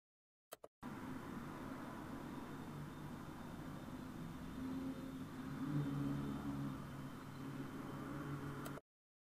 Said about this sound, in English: You'll hear there's a sound of lots of traffic coming from outside.